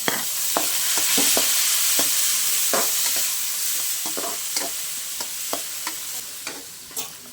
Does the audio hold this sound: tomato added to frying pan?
yes